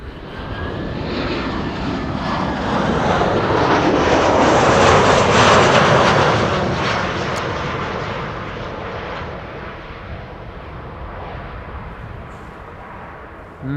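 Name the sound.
Saudia Boeing 747 airliner arriving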